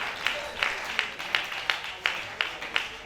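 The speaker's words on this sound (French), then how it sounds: "applaudissez quand même les professionnels du métier" Audience applauds at a televised competition semifinal results show, a thin roomful of clapping with a few louder accented claps recurring at a steady beat over background murmur.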